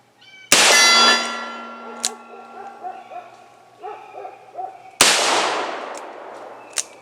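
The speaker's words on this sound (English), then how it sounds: "Now I am firing it single action." Two .38 Special rounds fired single action from a .357 Magnum revolver crack out loud and close, several seconds apart, each leaving a ringing metallic tail and faint echoes.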